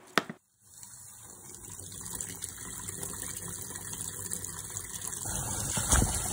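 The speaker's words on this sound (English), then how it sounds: "the whole time that I was running water on them" Water runs and splashes over a pair of women's hiking pants, a continuous close gushing stream after a brief pause at the start, heard alone without talk.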